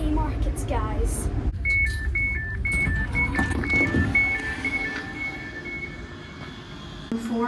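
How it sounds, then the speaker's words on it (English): A seven-carriage Dunblane train at Haymarket station, with a low rolling rumble and a rising, stepped electric whine as it moves through. Voices are heard over the train noise. "This train is formed of 7 carriages."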